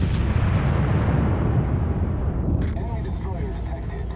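Battleship main guns fire in the naval game World of Warships, a heavy deep boom rolling into a long rumble, with a game voice calling out faintly afterward.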